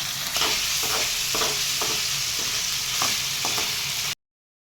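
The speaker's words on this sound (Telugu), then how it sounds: "మనకి ఉడికించిన మటనే కాబట్టి తొందరగానే ఫ్రై అయ్యిద్ది" Boiled mutton pieces with green chillies fry in a pan, a steady close sizzle with repeated scraping stirs of a spoon, ending abruptly in silence.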